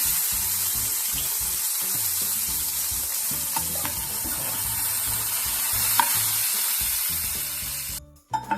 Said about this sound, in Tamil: முந்திரி திராட்சை கழுவி வறுத்துக்கலாம், வறுத்து எடுத்துக்கலாம்